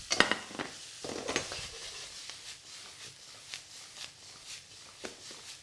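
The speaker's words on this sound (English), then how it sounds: "try and keep the stuff in the wok, and then continue to stir fry for the next 30 seconds or so" Chicken, chili, greens and sugar snaps stir fried in a wok, with a soft sizzle under intermittent scrapes and clacks of the utensil against the pan.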